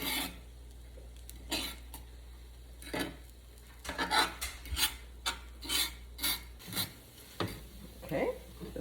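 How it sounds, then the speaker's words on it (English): A metal spatula scraping cooked sandwich fillings off a hot griddle for a melt, a run of short rasping strokes coming in quick bursts, close and fairly loud against a steady low hum. "Y'all forgive the scraping noises."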